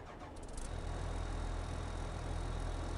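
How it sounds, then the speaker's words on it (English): A tractor engine in Farming Simulator 22 rises from quiet and settles into a steady, loud, low mechanical rumble that continues without any talking. "We'll hop in a tractor or a loader and make sure we can make some noise."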